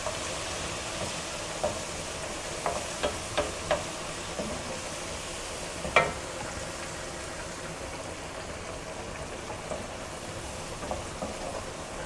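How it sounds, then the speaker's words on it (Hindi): Soft, steady sizzling of garlic and ginger frying in hot oil, with occasional light clinks of a utensil stirring the pan. "1 मिनट लहसुन अदरक को फ्राई करूँगी"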